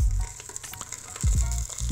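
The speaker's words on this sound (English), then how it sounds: "We're just searing them." Italian sausages and pork chops sear in a pot, a brief close burst of loud sizzling with a couple of clunks as pieces shift.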